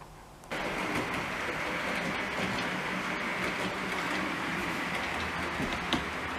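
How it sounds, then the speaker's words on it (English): Model railway trains running on a layout through a station into a fiddle yard give a steady, close whirring rumble with faint rail clicks, continuous and even throughout. "there we go, some trains running"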